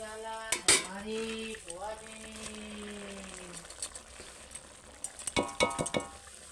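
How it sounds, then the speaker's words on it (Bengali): Chingri shak, shrimp with greens, being stirred in a pot, quiet scraping and clinks of a utensil against metal over a soft simmer, with a louder flurry of stirring near the end. "এবার একটু ভালো করে নাড়াচাড়া করে দেবো"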